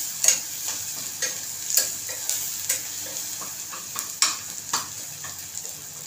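Homemade onion-garlic masala sautéing in a pan, a steady sizzle punctuated by a spoon stirring and scraping every half second or so, close and moderately loud with no voices.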